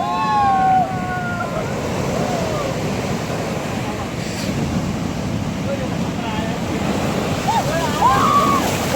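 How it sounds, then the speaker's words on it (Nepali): Atlantic Ocean surf breaking on a beach in Portugal, a steady loud wash of waves with wind buffeting the microphone, while people talk and shout excitedly over it. "पोर्चुगलको जम्बुजिराबाट चाहिँ हामी एटलान्टिक ओसियनको यो वेभहरूमा हल्का रमाइलो गर्दै गरेको अवस्था।"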